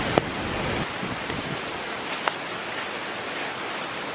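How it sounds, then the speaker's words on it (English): Steady hiss of heavy rain falling in the Maldives, a dense even wash of noise with a couple of faint clicks, no speech. "Sadly, it's raining. Cats and dogs."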